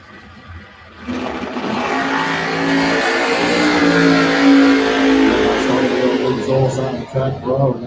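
Drag race cars, including a 1966 Pontiac GTO, launch and roar down the strip, a loud sustained engine howl rising and then fading slightly while an announcer talks over it.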